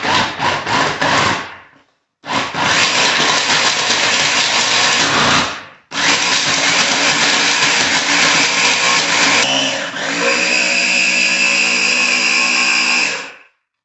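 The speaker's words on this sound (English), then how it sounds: "So let's put it into the blender." A countertop blender grinds fresh ginger for homemade kombucha, running loud and steady in three bursts separated by brief pauses, the final stretch shifting to a higher, smoother whir as the pieces break down.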